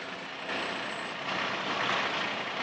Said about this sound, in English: This truck from H&L Landscaping and Grading.